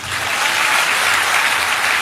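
A church congregation claps together in full, dense applause that stays steady and loud for the whole moment, with no voices above it.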